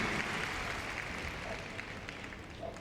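Applause from the crowd at a Crufts dog agility final as a run finishes, a steady soft wash of clapping heard from a distance and continuing evenly throughout.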